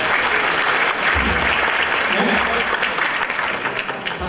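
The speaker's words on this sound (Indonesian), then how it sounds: "Oke, tepuk tangan dulu buat kita semua." A seminar audience in Indonesia breaks into loud, continuous applause, many hands clapping densely throughout, close and full, with a faint crowd murmur underneath.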